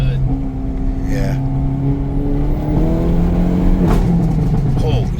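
Hyundai Elantra N engine revving from around 4,000 RPM and accelerating, a steady loud drone with rising tones heard from inside the cabin, with people talking over it.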